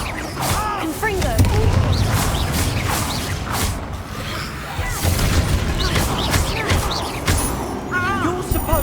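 Fire-spell explosions in the Hogwarts Legacy video game boom repeatedly in a dense, chaotic battle mix, with shouting voices and combat noise layered over the blasts throughout.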